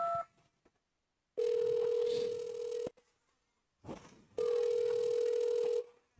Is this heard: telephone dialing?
yes